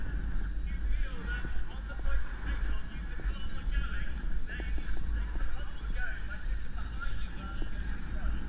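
A horse canters on a cross-country eventing course, its rhythmic hoofbeats thudding close beneath wind rush and a rider's voice talking over them.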